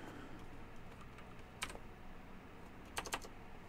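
Keystrokes on a computer keyboard while entering game code: two short clusters of quick clacking taps over a quiet, steady room hum, fairly close and moderately soft.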